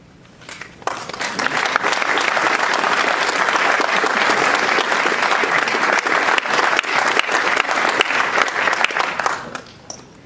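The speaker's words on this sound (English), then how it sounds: "receive a round of applause" A city audience at a San Leandro State of the City speech gives the local business community a sustained round of applause, loud and dense, swelling quickly and holding for several seconds before tapering off.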